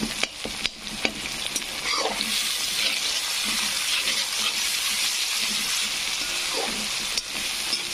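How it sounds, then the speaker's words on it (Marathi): Tomatoes sizzle loudly in a frying pan for a potato dish, with a few sharp clinks of a spoon stirring against the pan near the start and the end, no voices. "टमाट्याला पण छान असं फ्राय होऊ द्यायचं आहे।"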